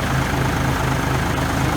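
A John Deere 230 three-point leaf blower running on a tractor with newly replaced V-belts, a steady loud low engine and drive hum, close and without talk.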